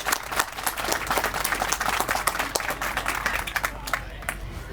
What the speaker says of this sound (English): Ladies and gentlemen, let's give all ourselves a huge round of applause